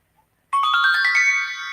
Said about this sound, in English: Oh, and that was my phone.